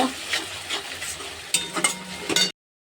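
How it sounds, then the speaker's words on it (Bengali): Ginger, garlic, onion and spices frying in a pan for a mutton dish, a light sizzle with several scraping stirs and clinks of the spatula, close up and unvoiced, cutting off abruptly near the end. "আদা রসুন পেঁয়াজ একসঙ্গে মশলাগুলো ভালো করে কষে নেব যাতে গন্ধটা যা একটু লাল লাল করে ভেজে নেব"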